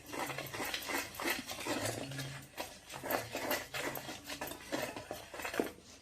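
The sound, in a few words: mixing flour batter in bowl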